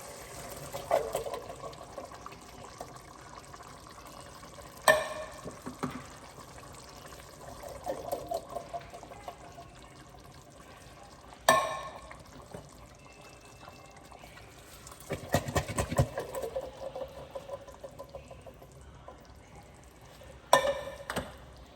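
Rice and beans are stirred in a pot, giving quiet scraping, sloshing bursts at irregular intervals, with a few sharper knocks of the spoon against the pot between softer passages.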